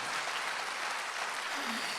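Steady clapping from a church congregation gathered for Sunday worship, a dense, even wash of many hands filling the room with no break for the full two seconds.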